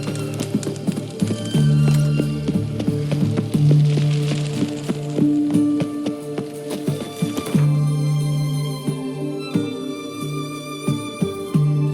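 A horse gallops in The Witcher 3: Wild Hunt, hoofbeats drumming steadily under game music, with a brief snort and sustained tones rising and falling in the background.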